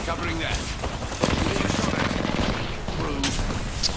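Rapid, sustained gunfire in the battle royale video game Apex Legends, a dense rattling burst of shots that swells in the middle of the clip over constant combat noise, with brief voice sounds at the start and end.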